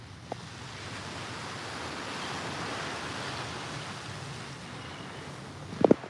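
Waves of the Chesapeake Bay wash in at the beach, a soft steady surf roar swelling and easing, faint and distant, with a couple of brief knocks near the microphone and no voices.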